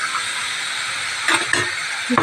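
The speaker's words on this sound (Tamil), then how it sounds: "இப்போ வந்து கொஞ்சோண்டு தண்ணி ஊற்றிக்கலாம்" Constant steamy hiss, with a few brief bursts of sizzling as water is poured into a hot pan of frying vegetables near the end.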